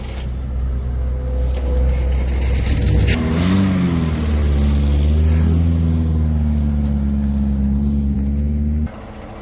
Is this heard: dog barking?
no